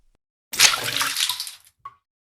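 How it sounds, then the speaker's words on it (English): Holy water poured onto a floor in an exorcism scene, one splashing pour of about a second followed by a brief pause and a single small drop. "Father Michael poured holy water in a circle around Lucy's floating form"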